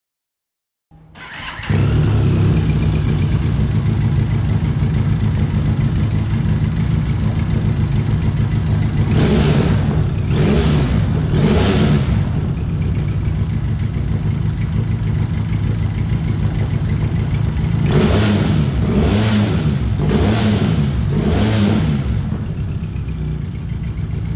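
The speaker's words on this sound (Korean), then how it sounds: "엔진 사운드도 들어보겠습니다." A Benelli TRK502X motorcycle engine idles steadily nearby, loud and continuous, with two short bursts of revving midway and again near the end.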